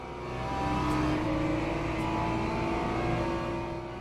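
GT3 race cars, among them a Lexus, accelerating at the green flag at Circuit de la Sarthe in the Le Mans Ultimate racing game: a continuous engine roar that swells, holds and then eases slightly, with no speech.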